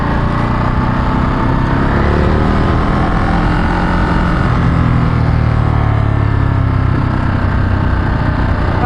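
A Ducati Monster motorcycle rides in touring mode, with a continuous loud engine drone mixed with broad wind and road roar, steady throughout with no talking.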